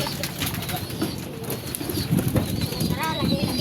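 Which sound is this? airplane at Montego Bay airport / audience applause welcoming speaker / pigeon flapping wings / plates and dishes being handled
pigeon flapping wings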